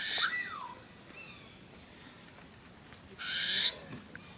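A burrowing owl calls at a bird facility with two short, bright rasping cries separated by a quiet pause, close by over faint background noise.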